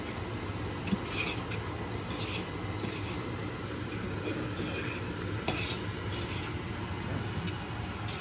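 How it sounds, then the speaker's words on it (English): Chicken pasta noodles being tossed and stirred through a creamy sauce in a pan, giving a steady wet scraping and rubbing texture throughout with a few sharper utensil clicks, close and moderately loud. "all I'm doing is I'm just going in and mixing the noodles around, so to hopefully evenly distribute the sauce"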